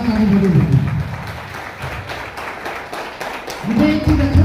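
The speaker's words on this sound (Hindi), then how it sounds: "मैं चाहूँगा आप अपने लिए एक बार जोरदार ताली बजाइए" A seminar audience in Mirzapur claps hard in a burst of rapid, overlapping hand claps, with a voice speaking before and after the clapping.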